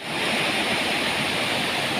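Steady, dense roar of a waterfall on the Kibunot river in Sabah, Malaysia, heard close by, constant and full without pauses.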